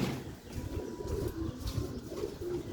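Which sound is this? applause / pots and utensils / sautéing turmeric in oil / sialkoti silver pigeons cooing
sialkoti silver pigeons cooing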